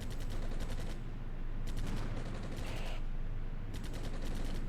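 Heavy 90mm F1 gun on a French scout vehicle firing repeatedly in the Cold War tank game Armored Brigade, loud sharp bursts in rapid, evenly spaced volleys over continuous engine and battle rumble.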